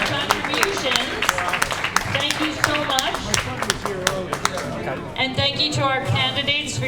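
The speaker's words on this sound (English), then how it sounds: "I think we should give the students a huge round of applause for their awesome questions and contributions." Audience applause for students at a school PTA candidates night, a dense patter of clapping from a crowded room, steady and fairly loud across the whole stretch, with a few louder claps and some voices and cheers rising near the end.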